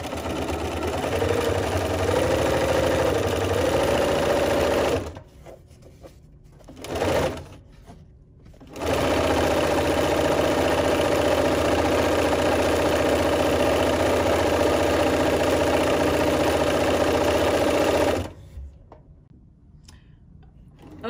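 A sewing machine stitches patchwork strips for a Christmas stocking, running close and steady in long continuous whirring bursts, stopping briefly twice for short pauses and then halting near the end.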